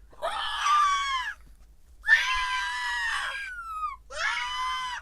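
A person imitates a screaming goat with three loud, drawn-out shrieking cries separated by short pauses, each bleating scream close and strained.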